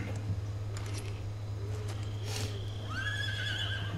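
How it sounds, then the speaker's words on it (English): A saddled wild horse in the video game Metal Gear Solid 3 neighs, giving one clear whinny that rises and falls near the end over a steady low background hum, with a few soft hoof or clatter sounds before it. "there's a horse with a saddle"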